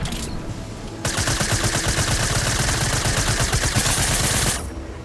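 Rapid, steady burst of SMG fire in the Fortnite video game, a loud continuous rattle of shots lasting about three and a half seconds, then stopping abruptly, with no voices.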